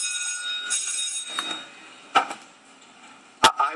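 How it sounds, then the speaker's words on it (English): An alarm goes off in a courtroom, giving thin, high ringing tones with a few sharp clatters and bursts. It sounds distant and moderate in level, and no one speaks. "We'll just check to see if this is a regular alarm or not."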